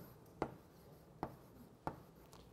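Three sharp, separate taps of chalk striking a board during a physics lecture, spaced evenly under faint room noise, with no talking.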